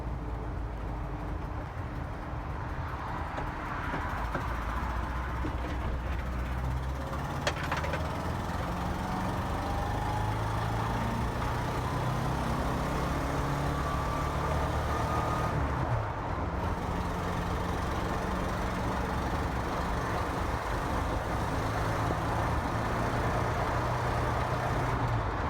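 A 1985 Volkswagen Vanagon GL cruises in fourth gear, with a low, even engine drone and road rumble heard from inside, moderately quiet throughout and without speech.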